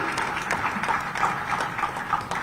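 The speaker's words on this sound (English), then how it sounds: "A big round of applause for sir." An audience at a ministerial speech event in Sriperumbudur claps steadily for a speaker, a dense, even patter of hands lasting a couple of seconds at moderate volume with no voices over it.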